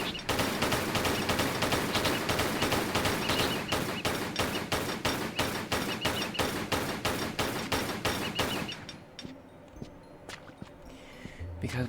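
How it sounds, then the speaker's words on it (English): Rapid pistol fire in Tomb Raider III's Crash Site level: a long, steady string of sharp shots fires for about eight seconds, then stops, leaving quiet ambience. "Just use pistols for this."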